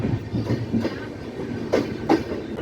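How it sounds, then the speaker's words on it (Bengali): The Bikaner–Kolkata Pratap Express runs along the tracks with a rumbling carriage drone and a rhythmic clickety-clack of wheels over rail joints, a few louder clacks standing out. "এই ট্রেন এখন একদম ঠিকঠাক চলছে নির্ধারিত সময়ের থেকে"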